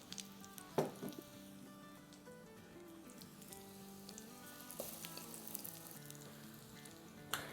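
Aloo bun kababs frying in shallow oil, a steady low sizzle throughout with a few brief clinks of a utensil near the start and end.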